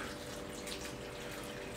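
Beef stock, made from powdered stock mixed with water, pours steadily into a slow cooker, giving a soft, even liquid splash close by.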